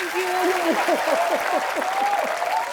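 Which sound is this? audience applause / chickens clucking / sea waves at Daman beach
audience applause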